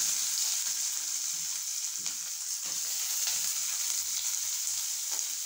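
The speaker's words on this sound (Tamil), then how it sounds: "இந்த உளுந்தம்பருப்பு போட்ட உடனே நல்லா லைட்டாக செவந்து வரும்போது வெங்காயம் போடுங்க." Chopped onions fry with urad dal, dried red chillies, cumin and fenugreek in a nonstick pan, a steady close sizzle with faint scrapes and stirs from a wooden spoon.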